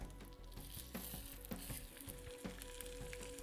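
Lobster pieces sizzle in gently heated oil with a soft, continuous frying hiss broken by small irregular pops and crackles, quiet and close, with no talking.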